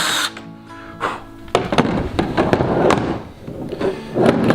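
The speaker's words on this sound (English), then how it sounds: "And then I'm going to drill another" A drill cuts a second hole beside the first in a Jackson Big Rig FD/HD kayak during a rod holder modification, heard as close, loud, irregular grinding bursts and clatter with brief pauses between them.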